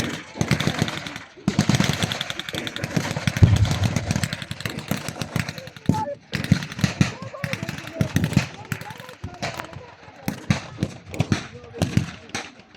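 Battlefield explosions and bursts of gunfire at a wartime reenactment in Yorkshire, loud and repeated in irregular clusters across the whole stretch, with a narrator speaking over the din.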